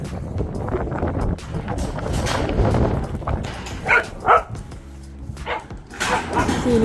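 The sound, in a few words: dogs barking on homestead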